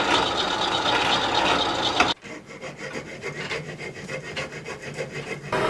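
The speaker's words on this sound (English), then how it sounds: "Now we're ready to drill the sockets." Steady rasping, grinding wood noise of a drill boring joint sockets into timber, loud and continuous, then a sudden drop to quieter rhythmic scraping and rubbing.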